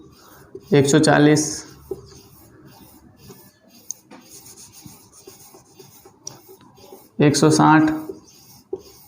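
A pen scratching numbers onto paper while writing out a multiplication table, two short bursts of scribbling heard close up with a person speaking between them.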